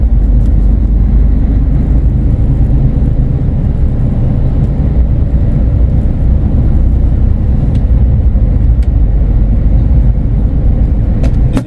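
Heavy road traffic heard from inside a delivery truck cab in England, a loud, steady broadband roar of engines and road noise with no pauses.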